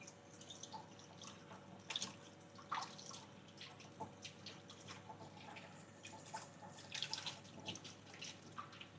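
Kitchen equipment is washed under a running tap at a sink, giving a quiet, continuous wash of water with scattered splashes and drips throughout.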